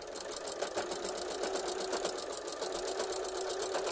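A home sewing machine fitted with a walking foot and a size 16 needle stitches home decor upholstery fabric for a pillow, giving a steady, fast, close mechanical whir with an even rhythmic pulse throughout.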